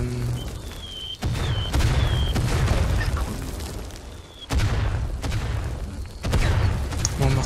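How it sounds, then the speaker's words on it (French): Heavy mortar blasts and gunfire in a WWI shooter game set at Verdun, repeated booming bursts with crackling fire in between, loud and close, one blast every couple of seconds. "Mon mortier va tomber sur le tank."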